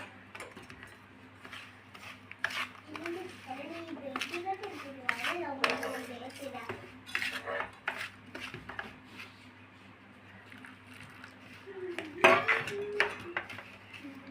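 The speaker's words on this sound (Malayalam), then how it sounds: "പുട്ടിൻ്റെ പൊടിയൊക്കെ നനയ്ക്കുന്ന പോലെ നമുക്കിതൊന്ന് നല്ലപോലെ മിക്സ് ആക്കണം" Milk is mixed into semolina for rava laddu with a spoon, producing soft scraping and clinking against a metal dish while a voice talks over the work and a low steady hum runs underneath.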